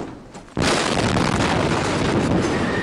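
A train explosion in Maryland caught on amateur footage: a sudden loud blast cuts in after a quiet moment and becomes a sustained, heavy roar with distorted, wind-buffeted rumble.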